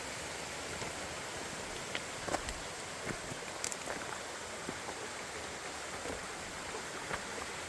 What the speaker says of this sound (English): That was a refreshing dip in Pine Creek, and the water is moving on account of the recent storms.